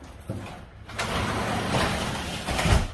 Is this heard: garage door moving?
yes